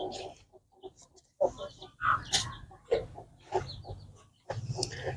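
A newly brought home hen, a heavy double-bodied bird weighing about 3 kg, gives several short, close clucks in an irregular pattern, with quiet gaps between them and faint background noise.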